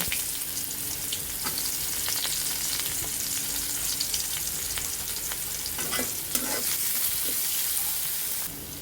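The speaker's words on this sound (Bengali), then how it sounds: "ওই তেলের মাঝে আমরা গোটা কয়েক জিরে দিয়ে দিব কেটে রাখা কুচানো পেঁয়াজগুলো দিয়ে দেব" Cumin seeds and chopped onions hitting hot oil left over from frying fish, a loud steady sizzle with scattered crackles and occasional stirring scrapes throughout.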